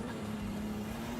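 Drift car on a wet track at a D1GP SEA and NDS GP round in Malaysia, engine misfiring and running rough, giving a steady, droning engine note at moderate distance with no voices.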